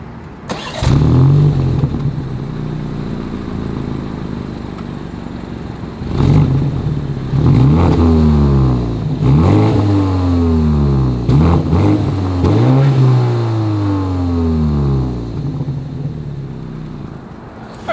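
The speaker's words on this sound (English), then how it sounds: "As always, here is that exhaust clip." A 2022 BMW X3 engine revs repeatedly, climbing and dropping in several quick bursts with throaty exhaust, after an initial steady idle.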